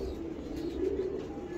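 A broad-chested Ferozpuri pigeon coos softly in a low rolling murmur over faint background noise, close but quiet.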